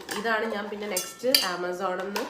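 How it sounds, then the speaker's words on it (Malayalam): Children's plastic bowls and matching plastic spoons clink lightly as they are handled indoors, a few short taps under continuous nearby speech. "ഈ 4 പാത്രങ്ങൾ വിത്ത് അതിൻ്റെ അതേ സെയിം കളേഴ്സുള്ള സ്പൂണും ഉണ്ട്."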